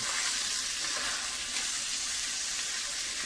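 Okra fries with green chilies and tomatoes while being mixed in the pan, making a steady, even hiss of sizzling oil that stays moderately loud throughout, with no voices.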